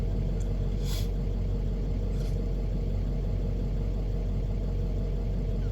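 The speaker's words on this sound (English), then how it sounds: "so I just started my vehicle" A 2008 Chevy Express ambulance engine idles steadily just after a cold start, a loud continuous low rumble with no talking over it.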